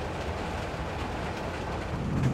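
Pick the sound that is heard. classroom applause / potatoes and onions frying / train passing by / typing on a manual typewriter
train passing by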